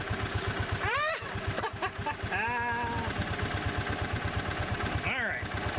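A Bobcat Pioneer (Club Car Carryall) utility vehicle engine idles, a steady low putter even throughout, close by, while a person talks over it.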